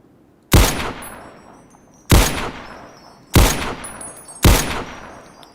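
Four loud, sharp gunshots from the video game Fallout 3 ring out at roughly even intervals. Each crack is followed by a decaying echo tail, with no voice over it.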